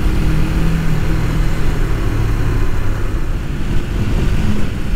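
A 1989 Suzuki GS500 cafe racer motorcycle on a test ride, its engine a steady, loud drone blended with wind rush, with no clear revving changes.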